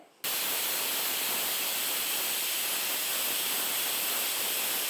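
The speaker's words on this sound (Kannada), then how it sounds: "ಸ್ಟೀಮ್ ಹೋಗೋ ತನಕ ಇಟ್ಕೊಳ್ಳೋಣ ಈಗ ಮೂರು ವಿಷಲ್ ಆಗಿದೆ ಕುಕ್ಕರು" A home pressure cooker holding bisibele bath vents steam after three whistles, a loud, steady hiss that bursts on abruptly and holds without a break.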